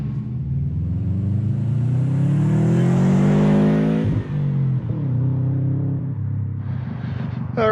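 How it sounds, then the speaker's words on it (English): A Subaru WRX with recent fixes and upgrades accelerates on Highway 4 during a test drive. The engine note climbs steadily and loudly, breaks at a gear shift, then rises again under constant road rumble, with no talking. "I'm gonna get to driving this thing and see how it handles."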